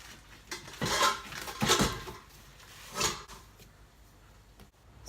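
New dishes clink and clatter as they are handled and stacked into a kitchen cabinet, with several bright knocks close by in quick bursts and quieter rattles between.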